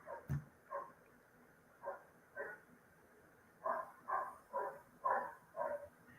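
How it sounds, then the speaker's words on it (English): A dog barks in a series of about ten sharp barks, a few spaced out at first and then coming faster, heard faintly from some distance in a quiet room. "that dog barks at the moon"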